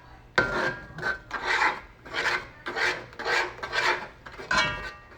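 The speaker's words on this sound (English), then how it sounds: "And you're just gonna keep stirring just like that." A spoon scrapes and stirs a gumbo roux in a pot, making repeated rasping strokes in a steady back-and-forth rhythm, close and fairly quiet, with no talking.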